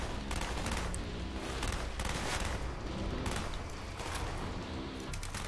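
Rapid bursts of G11 rifle gunfire in the Call of Duty Black Ops campaign, loud and continuous with repeated volleys and dense battle noise throughout.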